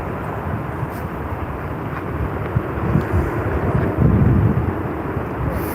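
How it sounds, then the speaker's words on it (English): A Courier Express aircraft taxis at night, its engines producing a steady low broadband rumble and whine heard from a distance outdoors, swelling slightly toward the end with wind buffeting the microphone. "the Courier Express has just commenced its taxi"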